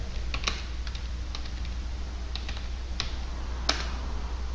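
Someone types a command on a computer keyboard: scattered light key clicks in short bursts with brief pauses, heard close over a steady low hum, and no talking.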